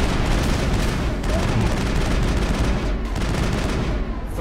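Gunfire in the video game Mass Effect: a dense, loud, continuous barrage of rapid shots and booms that holds steady throughout.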